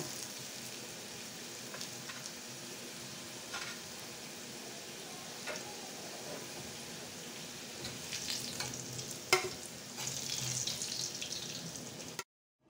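Potato pieces fry in oil in a wok, giving a steady sizzle with occasional stirring clatters and a louder scrape near the end, with no talking.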